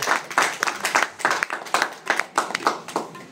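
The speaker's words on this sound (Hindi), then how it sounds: "ये खुदावंद के जलाल के लिए तालियां बजाते हैं" A church congregation claps in a quick, steady rhythm, many hands together at close range, with no talk over it.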